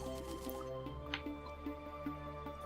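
Lava pours into a liquid duplicator in the video game Terraria, making faint, soft dripping and squishing liquid sounds. A low background hum with a steady repeating pulse runs underneath.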